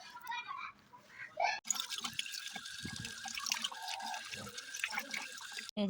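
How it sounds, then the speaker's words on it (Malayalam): A silver anklet being washed and scrubbed with a brush under water, with running and dripping water, splashes and brief scrubbing strokes close by and intermittent background voices. "കൊലുസ് നല്ല രീതിക്ക് തേച്ച് കഴുകി നല്ല ബ്രഷ് ഇട്ട് നല്ലപോലെ നമ്മൾ ഉരച്ച് കഴുകിയെടുക്കണം"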